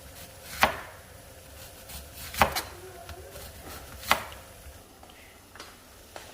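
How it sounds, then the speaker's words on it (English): Knife slicing through the end of a potato on a cutting board in a home kitchen, giving three or four sharp, distinct chops spaced a second or two apart, close and fairly quiet. "take the end and make that into thin slices."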